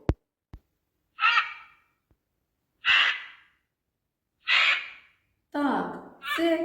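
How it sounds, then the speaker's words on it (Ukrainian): A magpie gives four harsh, chattering calls, evenly spaced and fairly close, with a couple of soft clicks at the start and silence between calls. "сорока білобока, наша давня знайома"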